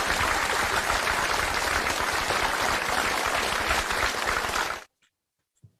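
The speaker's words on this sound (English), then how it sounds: "Let's all give her a resounding round of applause." A resounding round of applause from an audience at an International Day of Cooperatives event greets a speaker, loud and dense throughout, then cutting off abruptly into near silence.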